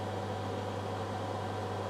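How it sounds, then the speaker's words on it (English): A microwave oven runs at full power, about 1370 watts from an EcoFlow Delta power bank inverter, heating a glass of water: a steady low hum with an even mechanical whir, close and constant. "that's full power on the microwave."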